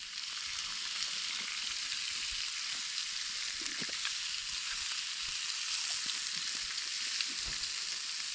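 Bacon, a second batch, sizzles and fries in a pan over a campfire at a snowy camp, a steady close crackling hiss with small pops and faint utensil clicks throughout.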